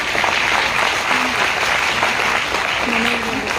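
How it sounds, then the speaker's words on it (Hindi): Audience applause at a product launch seminar: steady, dense clapping from a crowd that fills the whole stretch at an even loudness, with a faint voice briefly audible beneath it. "गुड, आसान है, ताली हो सकती है इसके लिए।"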